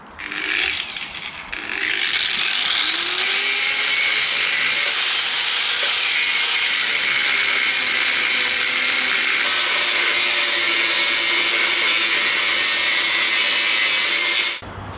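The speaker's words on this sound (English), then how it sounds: "I think the only way is to grind through and then pry it out" A power grinder cutting through steel suspension bushing sleeves on a Mazda MX5: a sustained, loud, high-pitched grinding whine that holds steady for most of the stretch, starting after a brief quieter moment and stopping near the end.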